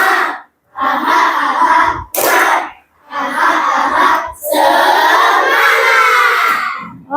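A class of children in an Indonesian coding lesson chant and shout together in bursts with claps between them. The loud group phrases come in a rhythmic pattern, separated by short pauses.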